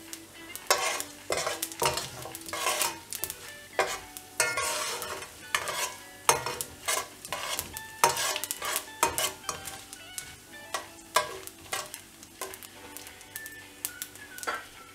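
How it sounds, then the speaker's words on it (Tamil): Cumin seeds fry lightly in a pan for dal tadka, with a soft sizzle beneath frequent sharp clinks and scrapes of a spoon against the pan, close up and without speech. "ஜீரகம் ஆட் பண்ணிவிட்டு லைட்டாக ஃப்ரை பண்ணி முடிச்சிட்ட உடனே இதில் பூண்டும் வெங்காயமும் ஆட் பண்ணிடலாம்."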